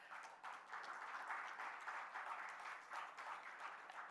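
A conference audience breaks into a round of applause, steady dense clapping that fills the room for the whole stretch at even loudness, with no voices over it.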